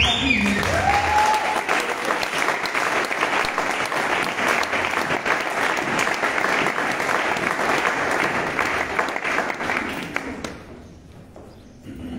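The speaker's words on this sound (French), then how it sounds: "Sous vos applaudissements, papa" An audience at a youth conference claps in sustained, dense applause that stays loud for about ten seconds, then fades quickly toward the end.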